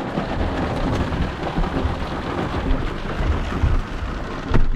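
Heavy rain pours down steadily with a dense hiss and patter, while low rumbles of thunder roll underneath and a sharper crack breaks through at the very end.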